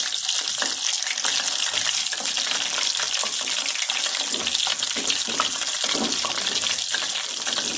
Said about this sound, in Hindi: ये देखे माशाल्लाह हमारे फिंगर फिश फ्राई हो गए अच्छे से।